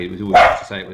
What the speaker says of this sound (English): Sorry about my dogs there.